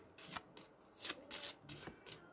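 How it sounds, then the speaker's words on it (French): Tarot cards being shuffled and drawn produce several soft riffling and sliding bursts, close and quiet, spaced unevenly over a couple of seconds. "On va tirer 4 cartes des lames majeures du tarot."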